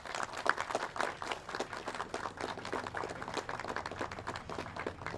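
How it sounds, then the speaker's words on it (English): Audience applauding Mayor Johnson at a Milwaukee anti-speeding campaign launch, a steady wash of many hands clapping at moderate level, fairly close and continuous throughout. "let's give a big round of applause to Mayor Johnson for that"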